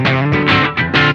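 An electric guitar plays through a NUX Queen Of Tone dual overdrive pedal in fat mode, giving a short, loud, saturated burst of several distorted notes with a thick, boosted tone.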